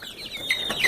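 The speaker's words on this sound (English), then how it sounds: "this is where we have some chickens" A few short chicken clucks close by in an earthship greenhouse, quick and chattering, with a faint bright squawk near the end.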